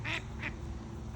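Ducks quack near the water in two short, loud calls close together, with low background rumble and no talk.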